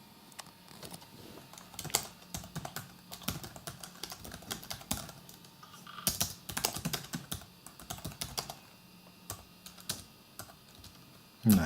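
Keys clatter irregularly on a vintage IBM type 1161 keyboard, with dense bursts of typing and short pauses. The keystrokes sound close and fairly quiet, and no one talks.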